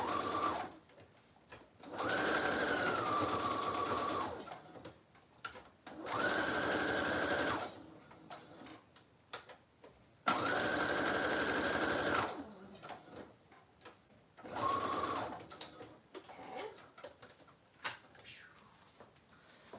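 Sewing machine stitching around the edges of a paper journal tag, running in four separate close bursts of steady whirring hum, each a couple of seconds long, with quiet gaps between.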